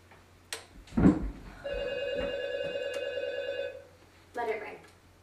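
A landline telephone bell rings in a tense thriller scene, one steady ring of about two seconds set between short bursts of talk and movement.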